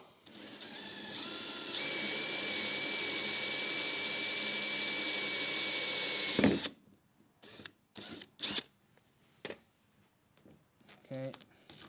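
A power drill with a blunt bit drills a hole in a Ford Focus bumper, whirring steadily for about six seconds with a high whine, then cuts off, followed by scattered knocks, handling noises and brief talk.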